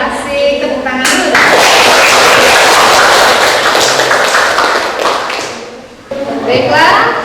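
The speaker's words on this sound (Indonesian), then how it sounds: "tepuk tangan dulu" Students in a classroom clapping their hands together in a loud, close burst lasting several seconds, with children's voices before and after.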